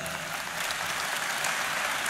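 An audience in a convention hall applauds steadily at the 33rd Intercommunalités convention opening speech, a dense, even wash of many hands clapping with no pauses.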